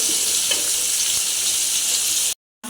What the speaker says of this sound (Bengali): মাছ হচ্ছে ভাজার জন্য মানে একদম ফুল ভেজ চলে আসছে